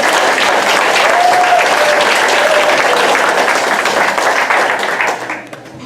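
Banquet audience at an alumni gathering applauds steadily, a dense, loud wash of clapping that holds for several seconds before tapering off at the end.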